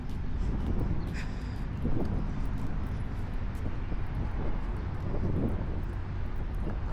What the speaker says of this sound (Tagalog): Pero mahangin.